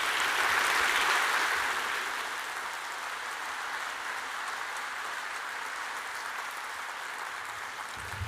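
Audience applause welcoming Commander Grant Dale to the stage at a Navy talk, a steady crowd clapping that starts strong and gradually thins to a softer sustained patter, with no voices over it.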